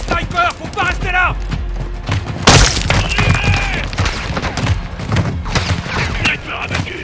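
A sniper shot fired in the Call of Duty MW2 campaign cracks out sharply, set amid game music, effects and constant talk in French.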